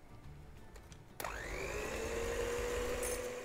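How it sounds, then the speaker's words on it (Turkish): An electric hand mixer whisks eggs with sugar until pale for an apple roll cake; after a quiet start the motor switches on abruptly and whirs loudly and steadily, its pitch settling as it runs. "Yumurtalarımız iyice beyazlaşana kadar çırpıyorum."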